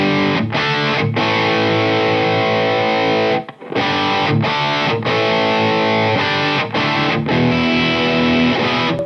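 High-gain distorted electric guitar from an Epiphone Flying V with a Fishman Fluence pickup in vintage voicing, playing loud chugging riffs with short sharp stops and a brief pause midway, no voices.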